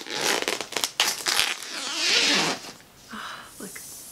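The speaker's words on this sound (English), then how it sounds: "So I'm going to open the plastic with my scissors." Scissors snip and tear through the crinkly plastic wrapping of a Cricut Maker cutting machine: close, busy rustling and crackling with a few sharp snips, then quieter handling.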